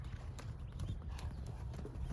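Horses' hooves clip-clop in a quick, uneven rhythm as fillies run a lap, over a rumbling background, fairly faint and distant, with no talking.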